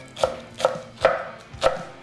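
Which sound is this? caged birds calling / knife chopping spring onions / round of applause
knife chopping spring onions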